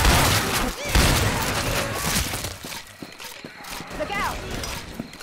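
Gunfire in Left 4 Dead 2 during the Swamp Fever campaign, rapid loud bursts of shots mixed with game noise and shouting voices, dense at the start and thinning out.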